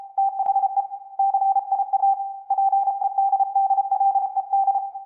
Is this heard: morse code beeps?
yes